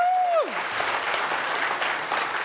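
Conference audience in Edinburgh applauding a welcome, dense steady clapping from a large crowd filling the room, with a brief whoop or whistle at the start.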